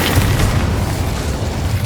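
A fire spell blast cast in the video game Hogwarts Legacy during a duel, heard as a loud, sustained low boom with a rumbling, explosive roar filling the whole moment.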